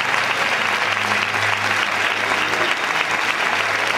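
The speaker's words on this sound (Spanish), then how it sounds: "Un aplauso para todos." Steady, dense applause from an audience at an awards ceremony for athletes, loud and sustained throughout with no pauses.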